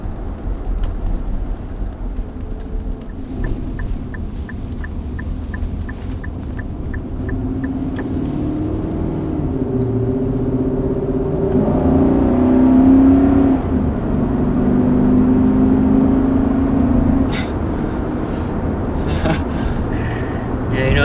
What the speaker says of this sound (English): There's certainly no replacement for that sound. No turbocharged engine ever sounds even halfway that good.